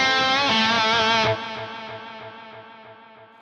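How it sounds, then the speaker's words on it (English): A sustained, distorted electric guitar chord through a Fractal Audio AX8 delay effect rings out, then cuts, leaving a string of fading repeats that echo rhythmically and grow quieter. "I can add delay."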